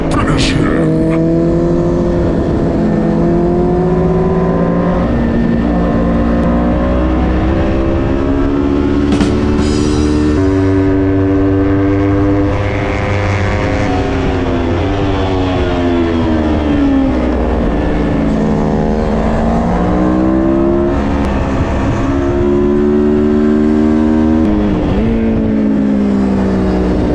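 Kawasaki Ninja 400 motorcycle lapping Thunderhill Raceway, heard close from onboard as a loud, continuous engine whine climbing and dropping through gear changes and corners, with steady wind roar throughout.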